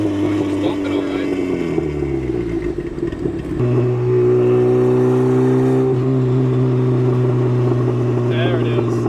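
Loud idling and light revving of a turbocharged Mazda Miata with a straight-pipe exhaust, a low burbling gurgle that steps down in pitch and settles into a steady rumble, with people talking over it.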